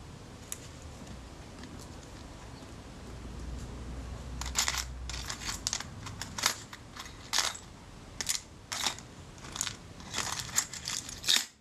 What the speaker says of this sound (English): now I can put the other two screws in and tighten them all down